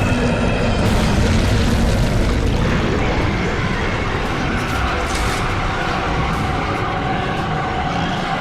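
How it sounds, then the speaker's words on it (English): Heavy rumbling explosions from grenades thrown down a giant monster's throat in Gears of War 2, a dense, continuous booming roar that stays loud throughout. "They fight off the monster by shooting it in the eyes, then throw grenades down its throat."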